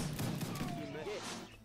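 Gunfire from units in Age of Empires 3 (Wars of Liberty mod): faint, distant rattling volleys that fade into a wash of battle noise, with a voice heard briefly over them.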